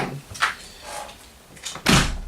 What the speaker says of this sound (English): I think I'm gonna have to shut the door because it's just a bit too noisy for my liking